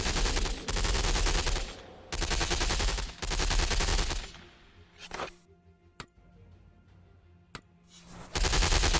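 In the Falling Skies game, loud, sustained bursts of rapid gunfire alternate with gaps, followed by a few sharp isolated blasts as a rocket fires, then another heavy volley of shots.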